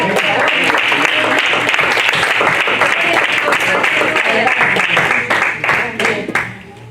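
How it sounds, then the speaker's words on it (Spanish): A church congregation claps and applauds loudly for the morning preacher, a dense, sustained roar of hands that holds for about six seconds before tapering off, with a few voices mixed in. "Dale un aplauso."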